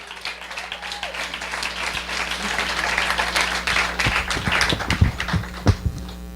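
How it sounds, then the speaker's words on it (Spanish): Audience applause at a Spanish-language church service, a dense spread of hand claps building steadily to a few louder close claps near the end, over a low steady hum. "Déselo fuerte el aplauso."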